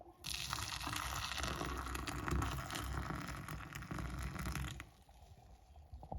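Hot milk pours steadily into a cup of cinnamon coffee, a close, continuous gushing splash that stops abruptly near the end, leaving faint residual trickling.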